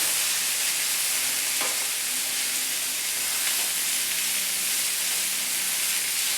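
Chopped ivy gourd (tindora) with powdered spices sizzles steadily in a hot pan on high heat, a continuous close frying hiss with faint stirring scrapes and no talk.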